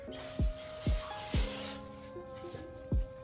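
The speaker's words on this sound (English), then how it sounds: "spray some PB Blaster around here in these little holes and hope that it breaks that rust loose" PB Blaster penetrating oil hisses from an aerosol can in short bursts onto a rusty brake caliper of a GR Corolla, close and fairly loud, with metallic clicks and thuds between sprays.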